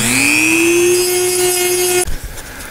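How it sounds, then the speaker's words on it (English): A Dremel rotary tool cuts a hole in the hull of a Tower Hobbies Uproar v2 RC boat, a loud steady high whine running for about two seconds before stopping abruptly, followed by faint handling noise. "And I'll do that with a Dremel."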